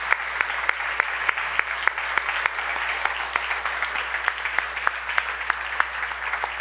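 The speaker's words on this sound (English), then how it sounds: "And another round of applause for the crew." Audience applause for the event crew at a Gnomon talk, a steady dense wash of many hands clapping with sharp individual claps standing out, sustained and fairly loud throughout.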